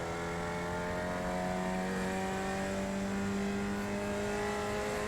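A race car engine in iRacing holds a loud, steady high-revving drone throughout, pushed hard around a road course with no pause or shift gap.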